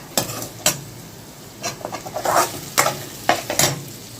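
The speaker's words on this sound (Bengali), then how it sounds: "আর এরপরে দিয়ে দেবো একটু জিরার গুঁড়ো দিয়ে ভালো করে নাড়িয়ে নিচ্ছি" Cumin powder stirred briskly in a frying pan, with spatula scrapes in short irregular bursts over a soft, steady sizzle of frying.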